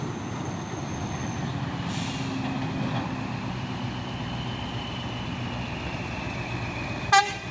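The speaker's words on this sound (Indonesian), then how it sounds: "Truk trailer kosongan." An empty trailer truck rumbles past with a steady drone of engine and road noise, then gives one short, loud horn toot near the end. No one speaks.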